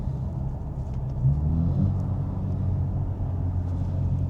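A BMW G82 M4 with a manual gearbox drives along, its engine a steady deep rumble heard from inside the cabin with a slight swell in load partway through.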